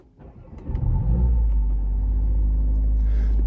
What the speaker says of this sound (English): Let me just start up the car.